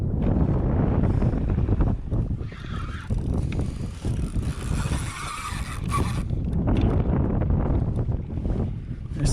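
Strong wind buffets the microphone at sea during offshore kayak fishing in Australia, a loud continuous roar and rumble with gusting surges throughout.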